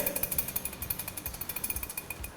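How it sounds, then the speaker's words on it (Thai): Rapid metallic rattling clicks from a Brembo floating brake disc on a motorcycle, in a fast, even rhythm like loose hardware chattering, fairly faint and steady for a couple of seconds. "จาน floating ของเบมโบอ่ะตัวเนี้ยจะได้ยินเสียงเลย"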